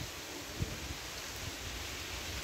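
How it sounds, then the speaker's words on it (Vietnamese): Steady outdoor rain makes a dense, even hiss with a few soft nearby drips and taps, continuous throughout and with no voices. "mình thấy trời mưa quá."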